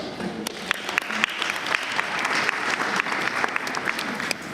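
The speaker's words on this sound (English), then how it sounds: "Please just keep the round of applause" Sustained round of clapping from an audience at a government technology conference, dense and steady with sharper individual claps popping out, running the whole stretch without speech.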